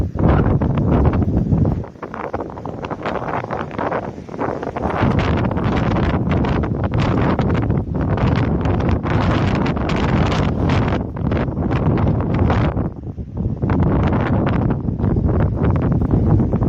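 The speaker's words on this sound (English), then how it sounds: "And the wind is just insane." Strong wind roars across the Pacific Crest Trail and batters the microphone, a loud, steady buffeting that surges and dips in gusts for the whole stretch, with no voices.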